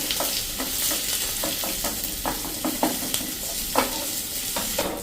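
Mustard seeds, asafoetida and cumin crackle and sizzle in hot oil for a khaman dhokla tempering, with a steady hiss broken by scattered sharp pops.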